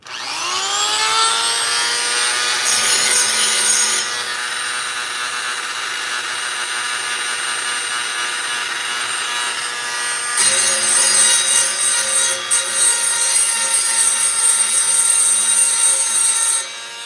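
Hedge trimmer blades for an HS100 being sharpened on a power grinder, a steady loud metallic grinding whine with sharp bright rasps that intensify partway through and near the end, running continuously without speech.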